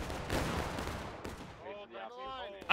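A musket volley goes off in the War of Rights Civil War video game. The loud, crackling burst of gunfire rolls away and fades, and a shouted voice follows.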